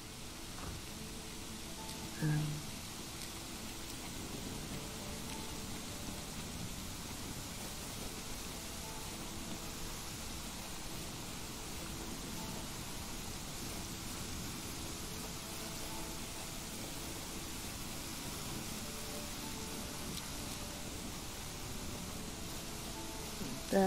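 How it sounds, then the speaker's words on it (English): Steady rain falls across an outdoor scene in The Witch of Fern Island video game, a soft continuous hiss at low volume with no talking, broken only by a faint brief tap near the start. "So it's raining."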